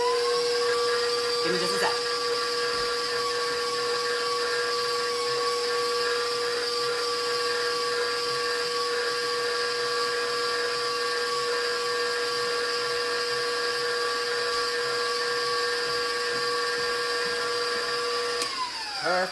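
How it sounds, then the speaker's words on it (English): Electric mixer whirs steadily, blending low-carb pound cake batter with egg, a constant motor drone with a high whine running throughout, close and loud, with a brief spoken remark near the start. "I'm gonna turn on the mixer and let it incorporate"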